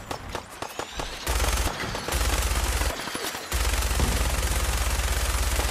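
A power armor gun from Fallout 4 fires in sustained automatic bursts, loud rapid chattering broken by brief pauses, with no voices over it.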